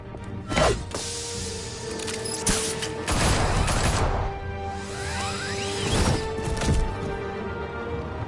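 Bursts of gunfire in the Injustice 2 video game come in several loud, separated volleys, some with a swooshing or crashing edge, mixed with other game effects between the shots.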